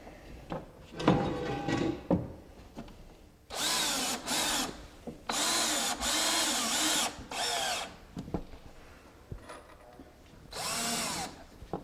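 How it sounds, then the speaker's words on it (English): Power drill driving a trim head screw into a pocket hole during trim carpentry, heard as several loud whirring bursts separated by short pauses, close by with no talking. "I'm going to grab one of these trim head screws that we talked about earlier and stick it down"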